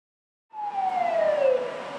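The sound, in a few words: ambulance leaving warehouse fire scene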